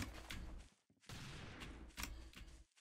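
Hand cannon gunfire in the Roblox game Arsenal: several loud, sharp blasts with rumbling tails in a fast, uneven sequence, close and filling the clip.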